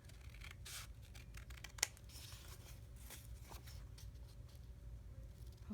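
Paper being cut down by hand for a junk journal: soft, close snips and rustles in a quiet room, with one sharper click partway through and no talking.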